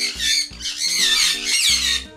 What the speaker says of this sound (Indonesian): Asli san kondur bikin kuping sakit. Berisik banget san kondur.